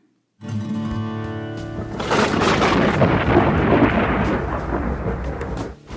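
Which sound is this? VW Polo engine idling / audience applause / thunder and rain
thunder and rain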